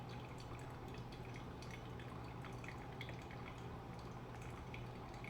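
Water poured in slow steady circles over pour-over coffee grounds, a faint continuous trickle with soft dripping and splashing, quiet and close, with no one talking.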